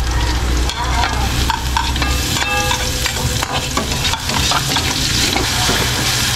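Garlic sautéing in a hot pan, making a loud, dense, continuous sizzle with stirring scrapes and clinks running throughout.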